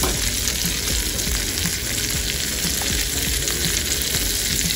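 Melted butter and olive oil sizzle and crackle steadily in a hot pan, a dense, even hiss heard close up without any voices.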